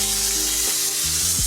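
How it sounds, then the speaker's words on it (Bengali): Potatoes fry in oil with black cumin and a bay leaf, giving a loud, steady sizzle with a short stir near the end. "আলুটা একটু ভাজা হোক,"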